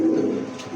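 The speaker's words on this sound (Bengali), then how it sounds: "এই মুহূর্তে দেখতে পাচ্ছেন একজোড়া মুখী কবুতর" A pair of Mukhi pigeons giving a brief, low, soft coo nearby, a single short call that fades out.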